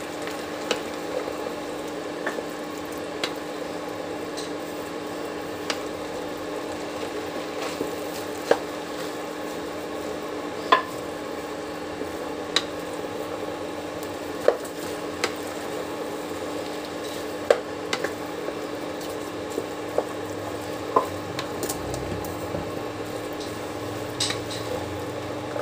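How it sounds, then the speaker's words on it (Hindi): Ragda, a potato curry for chaat, stirred in a pan over a low flame: a steady soft simmering hiss with scattered light scrapes and clicks of the spoon against the pan, close and even throughout, with no talking. "लो रख के मिक्स करिए।"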